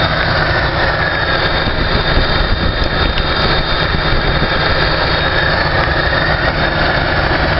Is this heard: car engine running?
yes